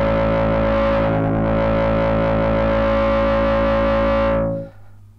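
Synthesizer patch imitating the War of the Worlds tripod call, pushed through maximum overdrive: a loud, sustained, heavily distorted droning tone with dense buzzing harmonics that holds steady for over four seconds, then cuts off abruptly into a brief low rumble.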